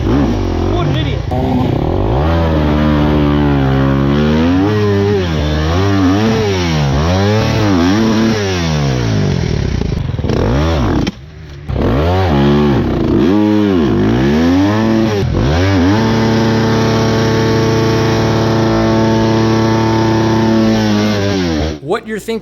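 Four-stroke dirt bike engine revving hard while stuck in a rut at an enduro race in Georgia pines, loud close-up repeated rising and falling revs with a brief cut, then sustained high throttle.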